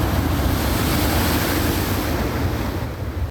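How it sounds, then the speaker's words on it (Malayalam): Sea waves surge toward coastal houses, a loud continuous roar of surf with heavy wind rumble, steady throughout with no voices. "ഈ തിരമാലകൾ തീരദേശവാസികളുടെ വീടുകൾക്ക് സമീപത്തേക്ക് ഇരച്ചു കയറുന്നത്"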